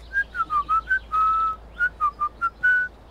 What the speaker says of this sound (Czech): Už zase to pískání.